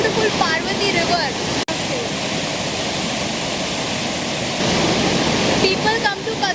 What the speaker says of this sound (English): look at beautiful Parvati River